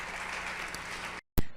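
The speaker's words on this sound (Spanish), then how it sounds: "Démosle un fuerte aplauso al Señor" A church congregation applauds during a Spanish-language Bible study service, a steady wash of clapping that cuts off abruptly, followed by a short burst of sound.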